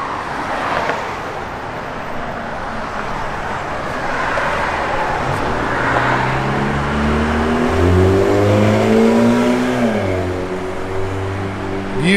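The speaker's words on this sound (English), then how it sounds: "Great sounding big block, man. This thing sounds awesome. And it should. It's got Borla exhaust on it," A 1970 Chevrolet CST10 pickup with a big-block V8 and Borla exhaust rumbles at idle up close, then revs up and down through several rising blips before settling back to a deep burble.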